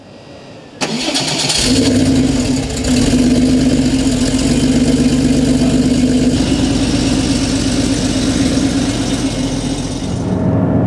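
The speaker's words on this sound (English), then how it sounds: "So we're going to start it up, take it for a drive" A Porsche 911 of the 964 generation fires up and settles into a steady, loud mid-range engine drone as it heads out on a warm-up drive, running continuously with no talk.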